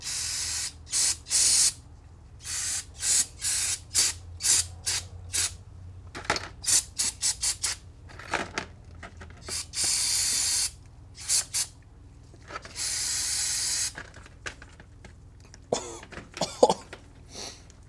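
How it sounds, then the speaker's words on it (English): Many quick aerosol cleaner spray bursts on a 1972 Yamaha AT2 motorcycle, short puffs mixed with a few longer hisses, close and irregular, with faint rubbing, scrubbing and handling noises between them. "Spray and a scrub."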